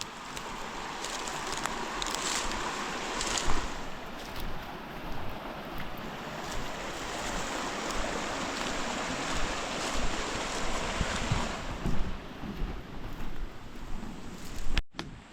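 Steady rushing river water flows nearby in a forest, a broad continuous wash with gusts of wind buffeting the microphone, ending in a brief dropout.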